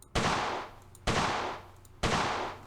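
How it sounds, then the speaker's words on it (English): An M16 rifle fires three single rounds at roughly one-second intervals, each a sharp loud crack with a short decaying ring, close and unaccompanied by speech. "let's first fire off a few rounds"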